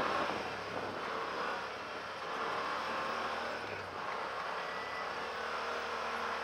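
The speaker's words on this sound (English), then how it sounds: "It's definitely a capable little off-road vehicle." A 2018 Yamaha Wolverine X4 SE off-road side-by-side drives through the desert, its engine a continuous roar mixed with wind and tire noise, steady and close with slight swells in pitch as it moves.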